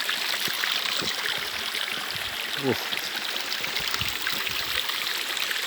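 A creek flows steadily nearby with constant rushing, burbling water. A person grunts briefly over it, and a few thuds and footsteps break through.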